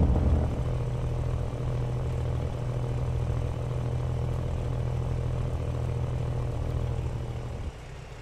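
A steady, close engine of an off-road vehicle on a muddy shortcut trail drones with a deep, even hum that holds for several seconds before dropping slightly near the end.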